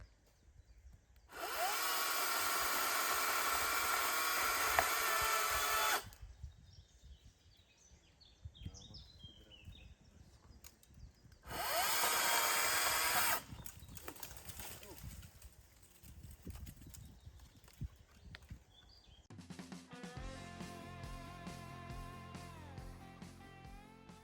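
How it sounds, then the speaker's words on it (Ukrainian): A power tool, likely a chainsaw, cuts a tree branch while a wooded plot is cleared, in two loud, steady bursts of several seconds with a quieter gap between them. Voices talk in the pauses. "А то гілку ріже, бачиш?"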